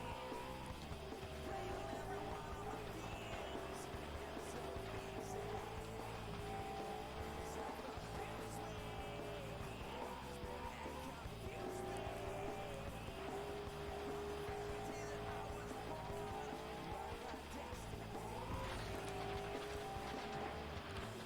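Race car engines drone steadily in the FlatOut: Ultimate Carnage video game, with tyres repeatedly squealing and skidding through corners over a sustained, moderately quiet roar.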